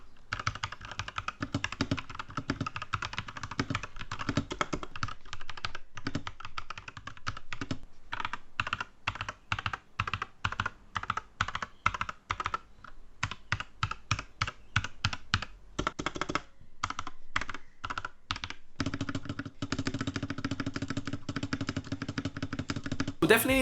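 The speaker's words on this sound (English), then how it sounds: "let's just do a typing test right now" Fingers type steadily on a Maibenben DMK01 mechanical keyboard with red switches, producing a close, busy clatter of keystrokes with a few brief pauses and a louder clack near the end.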